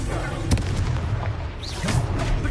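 In Hogwarts Legacy, the explosive Confringo spell goes off in heavy, booming blasts with sharp cracks, layered over dense, loud combat noise during a fight.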